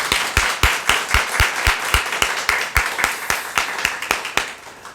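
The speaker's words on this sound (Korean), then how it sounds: "우리 감사와 영광의 박수를 함께 올려드리겠습니다" A church congregation claps together in steady unison during Advent Sunday worship, a rhythmic series of sharp, even claps at a brisk tempo, with no talking over it.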